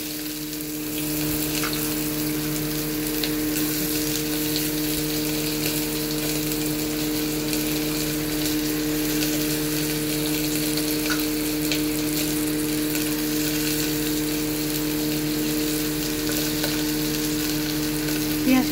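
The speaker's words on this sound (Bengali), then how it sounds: "পেঁয়াজটা একটু ভাজা ভাজা করব।" Onion sizzles in hot oil in a pan over medium heat as the base for kabuli chana, a constant crackling fry that runs unbroken over a faint steady hum.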